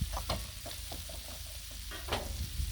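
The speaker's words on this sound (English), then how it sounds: "So, spread the ghee, spread the love." Ghee sizzles on a hot Blackstone griddle as it is spread with a spatula, a close, steady frying hiss broken by brief scraping strokes of metal on the flat-top.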